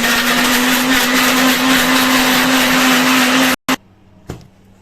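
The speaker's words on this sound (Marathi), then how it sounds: "आता मी मिक्सरला लावून घेते." A kitchen mixer grinder purees three tomatoes with a loud, steady whirring drone that runs for several seconds, then cuts off abruptly, followed by a brief restart burst and a faint clunk.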